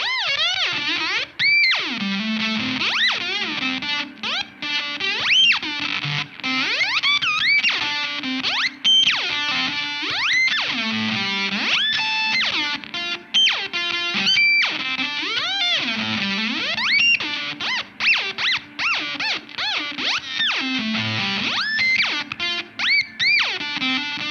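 An electric guitar through a Digitech MonoNeon Whammy pedal swoops and warbles through rapid pitch bends, producing squealing, robotic sci-fi chirps over sustained distorted tones.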